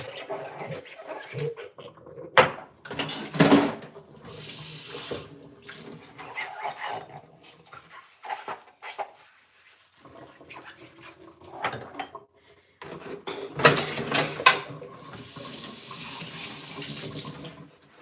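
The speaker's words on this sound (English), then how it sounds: "I wanna wash it today with hot water" Hot tap water runs into a sink for washing, a steady splashing flow that rises and falls in bursts, with a dog and occasional birds faintly in the background.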